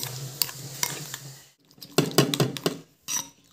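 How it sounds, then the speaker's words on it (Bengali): Egg mixture with chopped coriander being beaten in a bowl, giving quick clinking utensil strokes in bursts, a short pause, then another flurry of brisk taps and scrapes, close and fairly loud with no talking. "এবার সব কিছুকে খুব ভালো করে এখানে ফেটিয়ে নিচ্ছি।"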